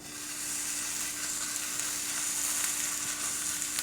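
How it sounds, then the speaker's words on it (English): Ground meat for tacos sizzles in a hot pan, a loud, steady crackling hiss that stays close and unbroken throughout with no talking. "You gonna hear a little sizzling."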